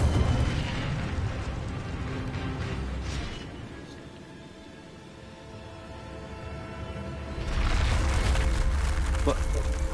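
An Incendio fire spell cast in Hogwarts Legacy produces a loud roaring whoosh, fading in the middle and then surging again near the end, with a voice speaking over it.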